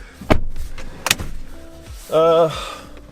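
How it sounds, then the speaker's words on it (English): A car door on a family SUV, a Kia Telluride or a Subaru, thumps shut twice, close and fairly loud, followed by a short burst of voice and light cabin rustling. "Close the door."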